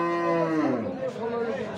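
A heifer at a cattle market lets out one long, loud moo close by, its low drawn-out call sliding slightly downward and fading at the end.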